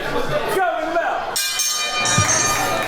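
A ring bell starts a professional wrestling match, a bright ringing tone sounding briefly amid announcer talk and arena background noise.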